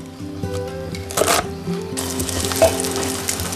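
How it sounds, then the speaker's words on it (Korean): Jeon pancakes of flour-coated greens fry in a pan with a steady close sizzle, broken by bursts of louder crackling as batter is stirred or turned, alongside clinking utensil sounds. "밀가루에 버무려 전을 부치면 고소하고 향긋한 전 한 접시 뚝딱 만들어지지요"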